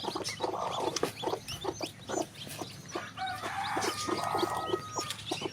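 A hen clucks steadily among a brood of more than fifteen chicks, with repeated short clucks and the chicks' high, busy cheeping filling the background at close range, no talking.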